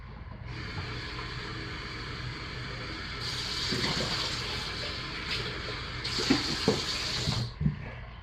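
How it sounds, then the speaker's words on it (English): Lye water pours steadily into soap-making oils, a continuous close splashing flow that grows brighter midway, with a few small knocks near the end. "I will slowly, carefully pour the lye water into the oils"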